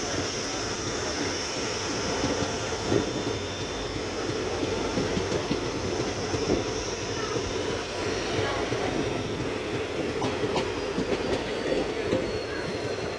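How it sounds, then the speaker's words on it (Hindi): The Ferozepur Cantt–Ludhiana Express rolls along the rails in 40-degree heat, a steady loud rumble with faint clicking of wheels on the joints, heard from on board with no talking. "और दोस्तों चल चुकी है हमारी ट्रेन टगरू रेलवे स्टेशन से ऑन टाइम।"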